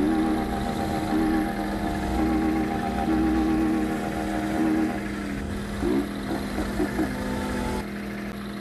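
A motorcycle engine in the mobile video game MX Bikes idles steadily, then gives a few quick throttle blips that rise and fall in pitch.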